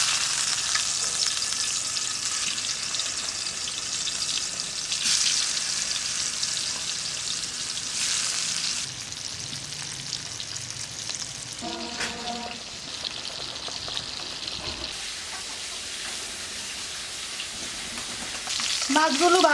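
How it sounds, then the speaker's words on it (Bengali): Koi fish fry in hot soybean oil with a steady, close crackling sizzle that runs the whole time, broken now and then by brief clinks and shifts as the pieces are moved. "তেলটা গরম হয়ে এলো, এখন এর মধ্যে মাছ ছেড়ে দিব।"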